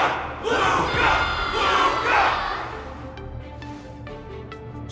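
A crowd in the Honkai: Star Rail game roars and cheers loudly for a fighter after a battle, swelling in waves before fading into lighter ambient sounds and faint chimes.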